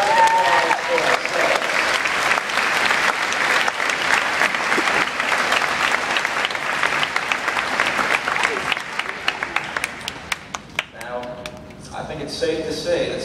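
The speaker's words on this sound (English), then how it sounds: "I think we should have a round of applause." A high school graduation crowd in Charlottetown applauds loudly and continuously in a dense, sustained wash of clapping that thins out near the end into a few scattered, separate claps.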